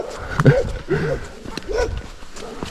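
Several barks and yips come from dogs kept behind fences beside a Gran Canaria hiking route, spaced irregularly at moderate distance against quiet outdoor background.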